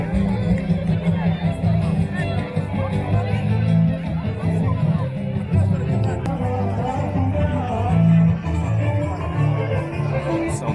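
Dense crowd chatter fills the packed old town port of Chania, Greece, a steady close babble of many overlapping voices and footsteps without pause.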